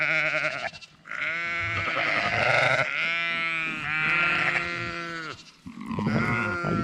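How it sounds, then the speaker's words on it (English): Bottle-fed ewes bleating up close: a long, loud, wavering sheep call fills most of the stretch, broken by brief pauses and a few grunting, snuffling noises near the end. "This is one of our bottle fed ewes."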